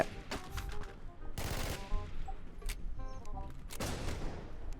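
In the online shooter Warz, automatic gunfire bursts out in rapid close volleys, with sharp repeated shots and brief pauses between bursts.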